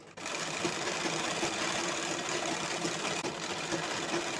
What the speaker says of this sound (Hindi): पूरे जितनी पट्टी लंबी बनी है ना, उतने में हम उस पर सिलाई लगा देंगे इस तरह से